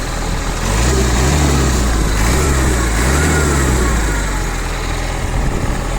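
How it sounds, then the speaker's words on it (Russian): A Kubota Saturn X-24 Japanese mini tractor engine idles steadily up close, a loud low chugging hum with a slight rhythmic wobble in pitch. "Давайте запустим трактор."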